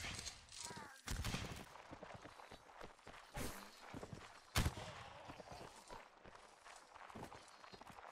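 Musket volleys crackle through a video game battle, with sharp bursts of massed gunfire near 1, 3.5 and 4.6 seconds over continuous battlefield noise, while players talk throughout.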